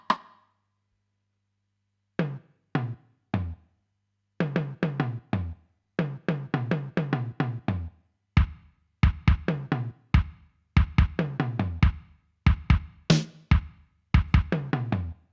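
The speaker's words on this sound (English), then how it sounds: "What you're hearing here is the drum sound coming out of the stereo output" Casio RZ-1 8-bit sampling drum machine heard from its stereo output: a dry, punchy programmed beat of kicks, snares and percussive hits, starting sparse and building into a steady pattern, clear with no talk.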